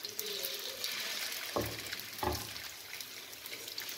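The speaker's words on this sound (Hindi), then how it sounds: "अब हम इसमें कबाब डाल देंगे फ्राई होने के लिए और इनको हल्की आँच पर पकाएँगे" Chicken seekh kababs in hot oil over low heat give a faint, soft sizzle, with two brief clunks or splashes in the middle as pieces shift in the pan.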